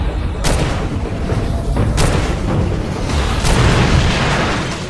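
Liquid propane tank blown up by gunfire in Far Cry 2, a loud booming blast followed by rolling rumble and further sharp cracks and bursts, dense and sustained.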